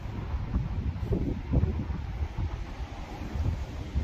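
Steady, gusty wind by the Kennet and Avon canal, a continuous low rumbling buffet on the microphone with no speech.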